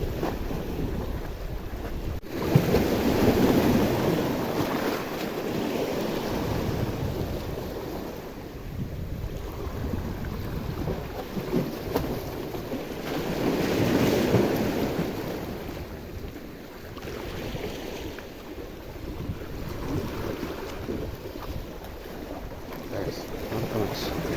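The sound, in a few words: rough sea waves at fishing harbour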